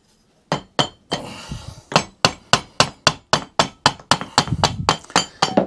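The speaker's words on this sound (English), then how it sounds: "Let me get a little tiny hammer with that." Steady series of bright metallic taps from a small hammer, about three strikes per second, each ringing briefly, close up with no talking, during repair of a Honda Pro Kaaz lawnmower gearbox.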